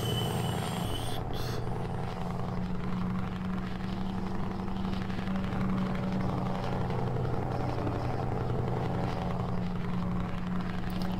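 A constant, droning Scania 143M truck engine in Euro Truck Simulator 2 hums steadily throughout, low and unchanging, with no voices over it.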